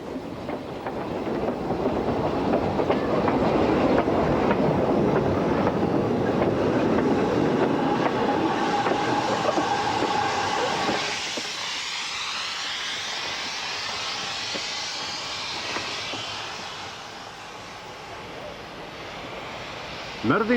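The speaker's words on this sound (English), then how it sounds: "Merddin Emrys departs from Porthmadog with drain cocks open and the driver using the regulators of front and back bogies in an attempt to control the slipping" Ffestiniog Railway steam locomotive Merddin Emrys, a double-bogie engine, departing Porthmadog with drain cocks open and wheels slipping, a loud roaring hiss of steam and chuffing that fades to a quieter rumble and clatter as it moves off.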